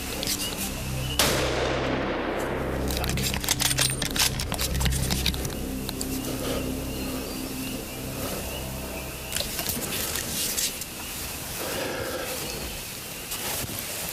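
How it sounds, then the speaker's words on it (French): A rifle shot fired at a bear during a hunt cracks out sharply early on, followed by a long rumbling, rustling wash of outdoor noise and scattered knocks. "On vient juste de tirer."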